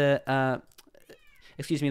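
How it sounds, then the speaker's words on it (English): A pet cat meows in a couple of short, tonal calls close by, with a voice speaking briefly in between. "that's my cat meowing"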